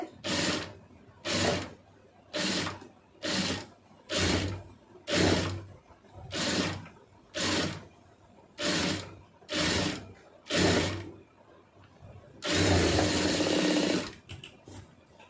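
A sewing machine stitches a puff sleeve in a run of about eleven short, even bursts of rattling mechanical whir separated by brief pauses, ending in one longer continuous run; close and loud with no voices.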